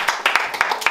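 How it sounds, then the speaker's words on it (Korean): A small group clapping hands in an indoor gathering, about six or seven quick sharp claps in an irregular rhythm, close and fairly loud, with light vocal sounds between them. "자, 박수."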